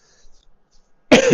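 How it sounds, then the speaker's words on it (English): A single harsh cough bursts out close to the microphone after near silence, short and loud, part of a coughing fit. "I've got a coughing fit today"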